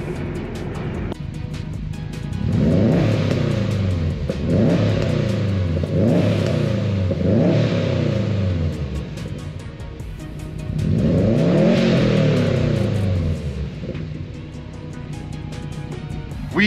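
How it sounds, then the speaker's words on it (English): Subaru Legacy GT wagon with a 300-horsepower engine accelerating hard in second gear, loud repeated rising revs with shifts between pulls, close and alone without talk. "Little second gear pull here."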